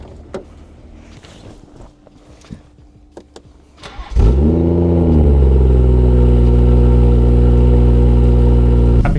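A BMW M140i fires up after a few quiet clicks and rustles, its engine catching with a sharp flare, then settling into a loud, steady idle close by.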